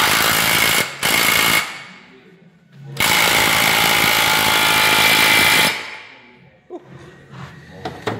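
A power tool, most likely an impact gun, tightens the drive shaft nut during front wishbone work on a turbocharged Honda Civic Type R EP3. It fires in two short loud bursts, then one long sustained run, followed by quieter clanks.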